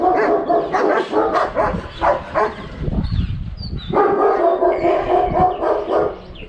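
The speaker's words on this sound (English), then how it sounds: "These dogs look like wolves." Several wolf-like dogs bark loudly and repeatedly outdoors in bursts, with yips and whimpering mixed into the barking.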